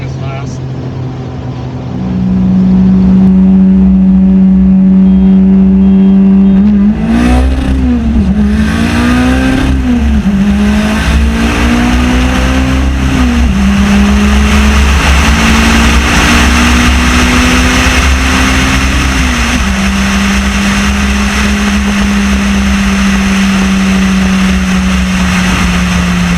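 A turbocharged, gutted 4G63T-powered Galant VR4 and a Stage 2+ STi accelerating hard in a race, with loud, close engine roar climbing through several gear changes before settling into a sustained high drone.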